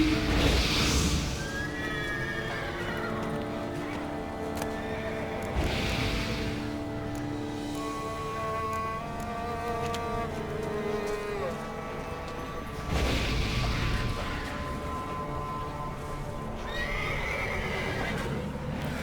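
Horse neighing and whinnying with clip-clopping hooves in The Witcher 3: Blood and Wine, a game scene at a haunted place; several loud whinnies recur over steady hoofbeats and game music.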